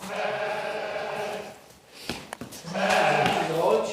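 Sheep bleat loudly and close at a livestock sale, two long wavering cries separated by a short pause with a few knocks and shuffles in between.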